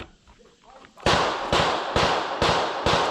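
A Sako TRG rifle in 6.5 Creedmoor with a Zeiss scope fires five sharp, loud shots at an even pace about half a second apart, following a second of quiet background sound.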